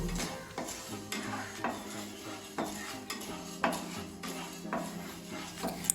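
Urad dal is dry-roasted and stirred in a pan, with repeated spoon scrapes and rattles against the metal at a fairly regular rhythm and a faint sizzle underneath, heard close and quiet.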